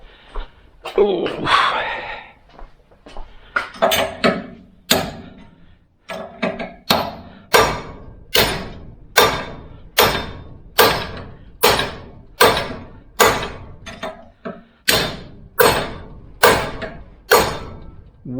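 Hammer blows on a car's rear axle bearing, heavy metallic strikes landing in a steady, evenly spaced rhythm after a few irregular knocks and some early clatter, loud and close.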